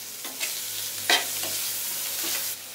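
Onions fry in a pan with turmeric and salt for a dosa filling, a soft continuous sizzle broken by a few scraping stirs, with no talk.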